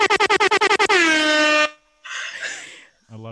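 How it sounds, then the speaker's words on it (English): A rapid burst of about eight short air horn blasts in Astral Arcade, then one long sustained horn, followed by a brief voice and a final short horn-like tone. "The air horn makes it."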